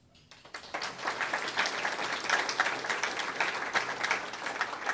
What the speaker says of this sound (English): giving our academic top 30 and their honored educators another round of applause